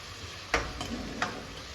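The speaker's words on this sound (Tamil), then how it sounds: "தக்காளி கொஞ்சம் வதங்கட்டும்." Tomatoes sautéing in a pan give a soft, steady sizzle close by, with a couple of sharp stir or spatula clicks cutting through the low frying hiss.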